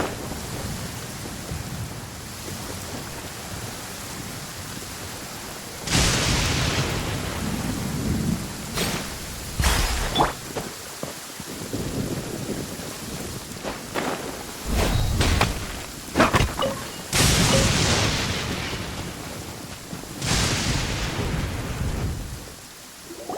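Heavy rainfall in a video game world, a constant hiss of rain broken by several loud thunder cracks and rolling booms that come and go, with no voices.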